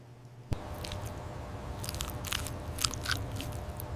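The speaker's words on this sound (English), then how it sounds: "Cutting a grilled cheese sandwich diagonally, the crust crunches," Crisp crust of a grilled cheese sandwich crunching as it is cut diagonally and bitten, a sharp onset followed by steady close crackling and crunching bursts, no voices.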